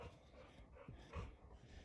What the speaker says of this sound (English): Hear Jasmine in the background panting